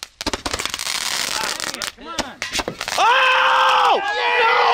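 Fourth of July fireworks go off during an off-road tire-mounting outing, a rapid burst of loud crackling bangs and pops followed by sharp scattered reports, with people shouting and screaming over the final seconds.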